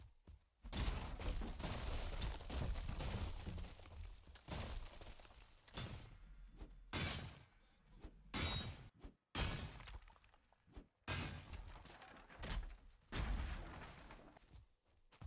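Pickaxe blows break rocks in Valheim's infested Mistlands, a run of sharp shattering cracks and crumbling bursts coming in uneven clusters, loud and close, with brief quiet gaps between strikes.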